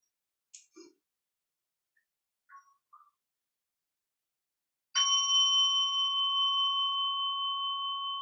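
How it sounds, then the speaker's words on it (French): After a few faint taps and knocks, a single bell is struck at a meeting, ringing out clearly and sustaining with a long, slowly fading tone. "Je vais inviter un son de cloche"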